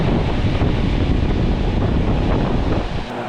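A cooling mister at a dirt bike track in Texas summer blasts a loud, steady hiss of spraying water with wind-like roar, close to the microphone and continuous.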